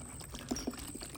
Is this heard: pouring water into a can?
yes